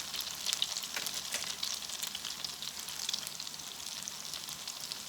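Broccoli latkes fry in a pan of hot oil, giving a steady, close sizzle with faint crackles and no talking.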